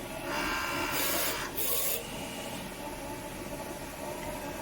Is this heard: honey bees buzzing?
no